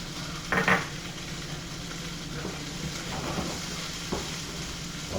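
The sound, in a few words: squash and onions frying in a pan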